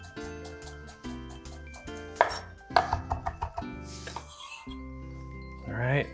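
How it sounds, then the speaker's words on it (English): A knife chops fresh parsley on a board in a few quick bursts of crisp taps, set against soft background music with no speech. "I'm gonna chop up a little bit of parsley"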